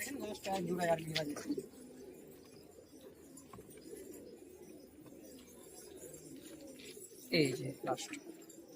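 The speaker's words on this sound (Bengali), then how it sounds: "চমৎকার বাজি পায়রা" Giribaz pigeons coo in soft, rolling bursts near the start and again toward the end, with a quiet background murmur between calls.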